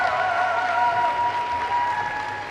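Spectators at an Isle of Man versus Gibraltar netball match cheer and clap in a steady, continuous wash of crowd noise, slightly fading toward the end.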